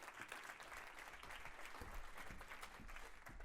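Audience applause welcoming speakers at a national forum on end-of-life care law, a steady crowd of clapping hands sustained throughout, moderately distant and even.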